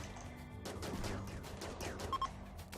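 Distant gunfire in the colony simulation game Rimworld, a scattered volley of faint shots and thuds over several seconds, quiet and muffled.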